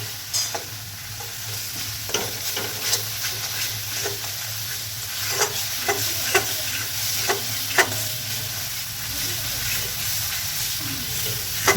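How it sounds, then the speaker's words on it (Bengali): Okra masala spice paste with a splash of water frying and being stirred in oil, a continuous close sizzle punctuated by irregular spoon scrapes and clinks against the pan. "মশলাটাকে ভালো করে কষিয়ে নিতে হবে যতক্ষণ না তেল আসছে।"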